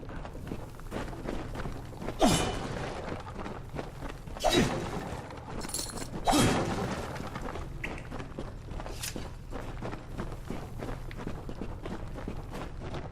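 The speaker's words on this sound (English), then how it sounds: "Always like smashing up boxes." Wooden boxes being smashed in the fantasy role-playing game Kingdoms of Amalur Re-Reckoning, three sharp crashing breaks spaced a couple of seconds apart over steady game ambience and light footsteps.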